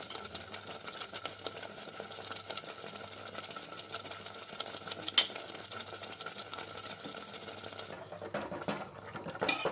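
Green gram and potato saaru simmers in a pot, giving a soft, steady bubbling hiss that stays faint and even throughout, with no voices.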